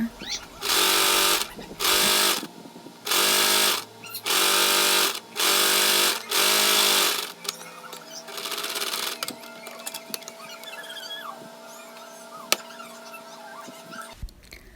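A sewing machine stitching a fabric strap for a face mask: six loud, close bursts of rapid mechanical whirring separated by short pauses, then quieter handling clicks and rustling of fabric.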